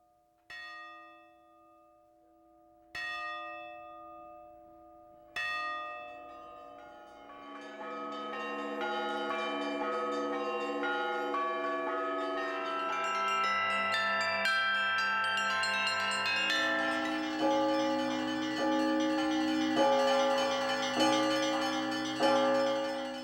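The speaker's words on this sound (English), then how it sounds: "Now they're pealing once again." Russian Orthodox church bells in Moscow peal loud and resonant. A few single strikes ring out at first, then they build into a dense, overlapping peal of many bells that continues unbroken with no voices.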